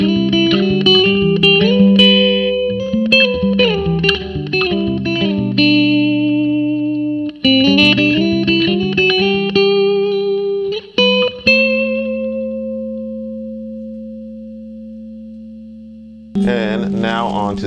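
A clean electric guitar plays a fingerpicked riff through a compressor pedal, quick repeated notes, then lets a long held note ring out before a final strum.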